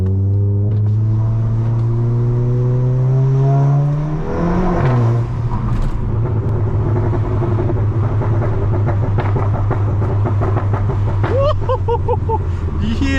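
A Stage 2 tuned VW Golf MK7.5 GTI revs hard and accelerates through the gears at night, loud and close from inside the cabin, with rising engine tones broken by a shift.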